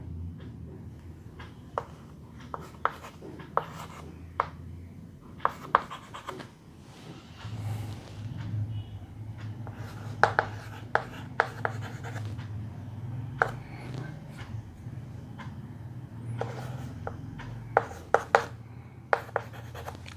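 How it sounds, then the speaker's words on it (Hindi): A pen scratches readings onto paper in sparse, irregular bursts of short strokes and taps, close and fairly quiet, over a low background hum with no speech. "अपने मन से रीडिंग लिख रहा हूं मैं"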